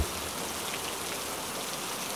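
Steady, even rainfall patters all around, a constant wash of drops with no pauses or voices.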